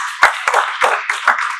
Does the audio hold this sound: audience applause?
yes